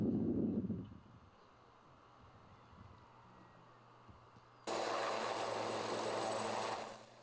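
A landing helicopter from British naval ship HMS Argyll: steady rotor and engine drone, faint at first, then jumping suddenly louder and holding before easing off; no one speaks.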